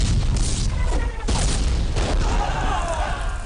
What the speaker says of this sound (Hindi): तोपें चलती रहनी चाहिए